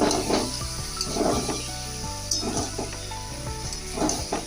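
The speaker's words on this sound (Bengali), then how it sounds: "তারপর যে তেলটা ছিল সেই তেলের মধ্যে কিছুটা পাঁচফোড়ন এবং আদা দিয়ে দিয়েছি।" Panch phoron and ginger fry in oil with a continuous bright sizzle, broken by repeated low thuds and scrapes of a spoon stirring in the pan.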